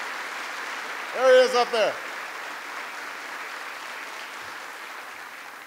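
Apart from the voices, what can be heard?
audience applause for a congressman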